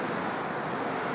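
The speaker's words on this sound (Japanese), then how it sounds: "さあ、うわ、行った、少年、でかい波。" Large ocean waves breaking during a surf session, a steady broadband roar of surf and wind that fills the whole moment without pause.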